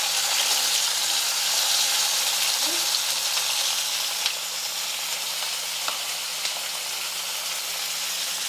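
Onions dropped into hot oil with mustard seeds and cumin sizzle and fry in a steady, close, continuous hiss for South Indian avaraikkai palya, with a couple of faint clicks and no talking.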